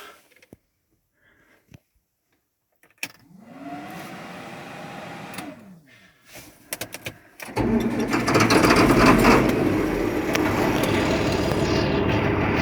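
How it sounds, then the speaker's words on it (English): A John Deere 7520 tractor with a Sound-Gard cab cranks over for a few seconds, then its engine catches and settles into a steady, fairly loud running rumble. "we'll go ahead and start it, because the last video I made, I didn't start the tractor and people got angry"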